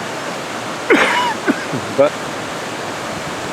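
A small working water wheel at the old Laxey mine, Isle of Man, fed over the top and turning clockwise, gives a steady broadband rush of pouring water throughout, with someone speaking briefly over it.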